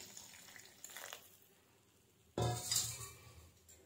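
Water is poured into a pan of frying spiced vegetable curry, a sudden hissing splash that starts partway through after faint kitchen clinks, close but fairly quiet overall.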